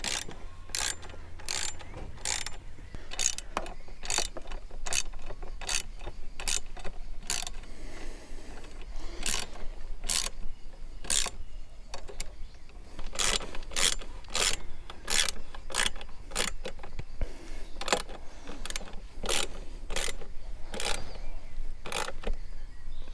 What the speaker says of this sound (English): Right, let's tighten these down a touch.